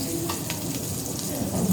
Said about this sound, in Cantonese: 炒咗啲薑，係炒熟啲薑先嘅嚇